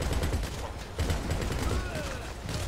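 Gunfire in Grand Theft Auto V, bursts of rapid shots crackling in uneven volleys with a sharp surge near the middle, fairly loud against game background noise.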